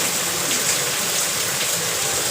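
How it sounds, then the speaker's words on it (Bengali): Heavy rain pours down in a dense, continuous roar of broadband hiss that stays loud and even from start to finish, with no voices. "বৃষ্টি মুসুল হারে বৃষ্টি পড়ছে এই বছরের সেরা বৃষ্টি"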